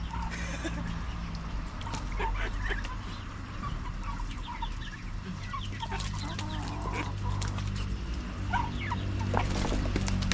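Ducks being fed in a backyard keep up a steady stream of chattering calls over a constant hum of background noise, with occasional brief voices mixed in.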